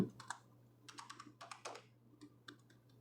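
Typing on a computer keyboard, clustered bursts of crisp key clicks with short pauses between words, close and fairly quiet, a low steady hum beneath, no voices.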